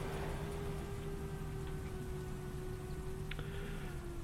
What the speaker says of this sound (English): The rain does make driving treacherous.